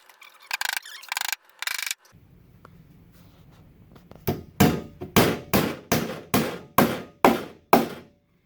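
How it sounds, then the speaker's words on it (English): Nails are hammered into the corners of a wooden beehive body kit: a few scattered knocks, a pause, then about nine sharp, evenly spaced hammer blows ringing close by. "So this is 4 nails in each corner in this kit, and I'll just go ahead and put those in."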